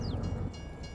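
A train rumbles past in the farming game Farming Simulator 22, a steady low roar with faint rail clatter holding loud and even throughout, with no talk over it.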